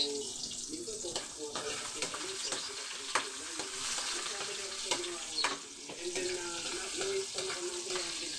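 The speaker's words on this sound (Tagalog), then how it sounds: "Gigisa natin sibuyas, bawang, at luya." Onion, garlic and ginger sautéing in a pan as the base for Filipino chicken tinola, a continuous crackling sizzle with spatula stirring, close and steady while a voice talks over it.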